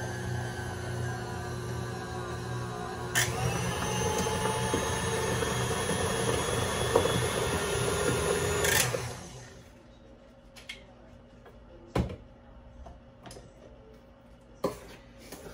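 An electric mixer on low speed churns thick banana bread batter, a steady loud whirring drone for several seconds that then cuts off, leaving a few faint knocks and taps.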